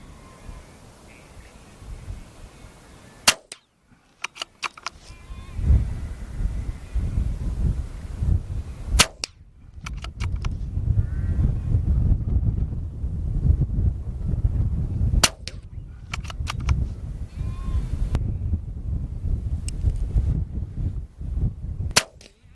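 Several sharp .22LR shots from a Lithgow LA101 Crossover rifle crack out at irregular intervals at an outdoor range, each a loud, abrupt report over a steady background of wind and breeze.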